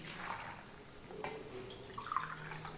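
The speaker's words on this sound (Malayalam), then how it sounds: "ഇതിന് ഞാൻ 2 കപ്പ് വെള്ളം ഒഴിക്കും." Water pours into a pressure cooker holding jackfruit pieces, giving a steady, soft splashing trickle with a few brighter drips near the end, moderately close and with no talking.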